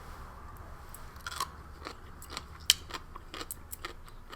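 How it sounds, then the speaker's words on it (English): Crunchy pickled daikon radish from a Japanese JSDF ration is bitten and chewed up close, giving a series of sharp, crisp crunches in an irregular rhythm against a quiet background. "That has a very distinct crunch to it."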